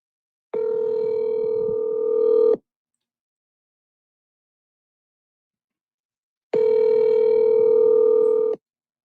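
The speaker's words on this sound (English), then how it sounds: "At the tone, please record your message." A voicemail system's record tone: two sustained, steady electronic tones, each about two seconds long and separated by roughly four seconds of silence, loud and clear with no voices.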